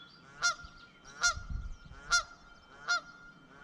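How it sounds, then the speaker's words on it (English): A goose honks four times at a steady rhythm, each call loud and close, with a brief low rumble of wind or handling noise in the middle on a dry, sunny outdoor walk. "That goose doesn't seem happy with me."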